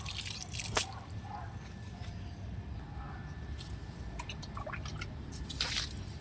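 Korean liquid fertilizer is poured onto a potted fig plant, making soft drips, splashes and squishy trickles against faint background hiss, with a few sharper drops standing out.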